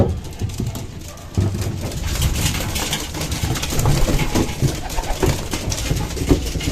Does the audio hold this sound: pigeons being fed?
yes